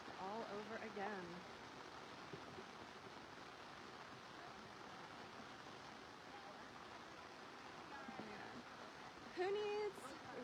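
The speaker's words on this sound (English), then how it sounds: "Who needs white noise when you have this stream with all the rain coming down?" Steady rain falls on a stream in the outdoors, a dense, even wash of water noise running throughout, with brief faint sounds near the start and end.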